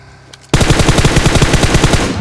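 Automatic gunfire in the mobile battle royale game PUBG Mobile, a loud, rapid burst of rounds that starts abruptly after a brief quiet moment and continues without pause.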